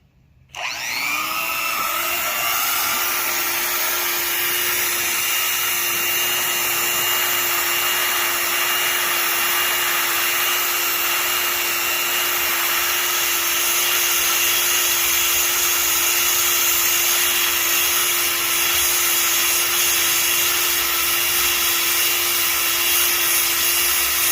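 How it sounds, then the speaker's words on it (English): A plastic welding tool works on a cracked plastic piece, giving a loud, steady, close-up blowing whine with a constant hum tone that starts suddenly and runs unbroken to the end. "Try and get a little bit of this plastic welding on camera for y'all."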